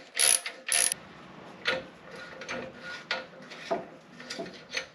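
Ratchet working 17mm nuts off the rear sway bar of a 2022 Toyota Tundra, quick clicking pawl bursts and metallic turning sounds up close, with brief pauses between strokes.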